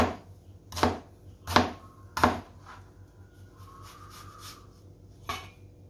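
Knife chopping an onion into a rough dice on a cutting board: four sharp, separate thuds in an uneven rhythm, close and clear, with a quieter scrape in between and one last chop after a short pause.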